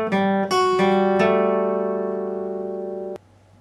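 Acoustic guitar picks the closing phrase of part 4 of a song: a few quick plucked notes, then a final chord left ringing for about two seconds before it is cut off sharply. Close and clear, with no voices.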